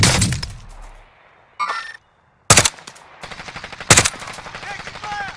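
Gunfire in the video game Warzone: loud, close bursts of automatic weapon fire and sharp single shots, separated by brief pauses, with faint game voices and radio chatter between them.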